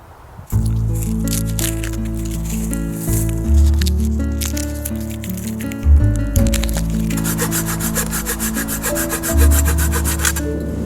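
Outdoor kindling being gathered and broken for a small camp stove fire, with loud rubbing, creaking and cracking of wood close by over about ten seconds, pitched tones sliding as the sticks bend and snap.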